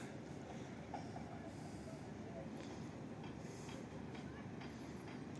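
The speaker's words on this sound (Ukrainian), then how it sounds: "Вокзал, потяг київський." Steady rumbling of a Kyiv train passing at the station in Truskavets, with rolling wheel noise and occasional faint high squeals, continuous and fairly close throughout.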